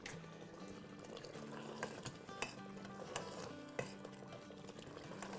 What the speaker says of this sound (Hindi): तो अब हम उसको निकाल के भुनाई कर रहे हैं